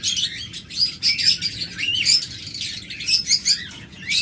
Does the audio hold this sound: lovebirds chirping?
yes